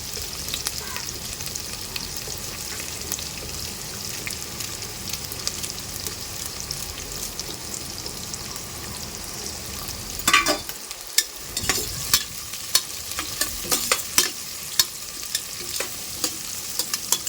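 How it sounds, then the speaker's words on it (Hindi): A large onion frying in a pan until soft and brown, a steady low sizzle with sharp scraping and clattering stirring strokes becoming more frequent in the second half. "प्याज को हमारे को अच्छे से सॉफ्ट करके ब्राउन कर लेनी है"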